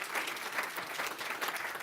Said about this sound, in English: let's give a round of applause to Brandon.